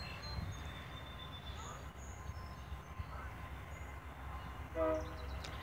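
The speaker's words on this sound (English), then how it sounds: "Train horn for us way down there." A freight train passing on a railway, its horn blowing far off down the line in a short faint blast late on, over a steady low rumble of the train.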